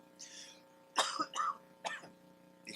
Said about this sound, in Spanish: todavía estoy batallando la tos con la que me fui de viaje la última vez